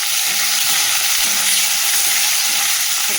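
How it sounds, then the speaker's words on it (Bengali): Onions sizzle loudly in hot oil, a steady close-up hiss of frying with faint stirring and no talking. "এর মধ্যে পেঁয়াজ কেটে রাখা পেঁয়াজটা দিয়ে দিলাম"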